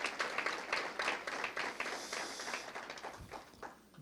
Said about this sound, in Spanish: Vamos a dar una ofrenda de palmas al Señor por la vida de nuestros hermanos